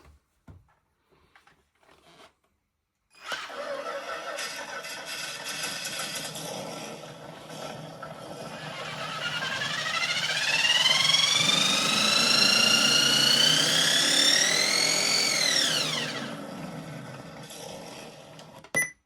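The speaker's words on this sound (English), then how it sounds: "whether or not we get the right engine sounds out." An RC car sound module simulating an engine, starting after a few seconds of near silence with a steady synthetic idle, then revving up with rising, whining harmonic tones that climb, hold and drop sharply back to idle, close and clear.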